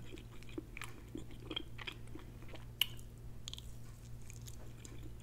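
Fried plantain is chewed close to the mic, giving soft, repeated wet chews and squishy bites in an irregular rhythm, with one sharper click partway through over a faint low hum.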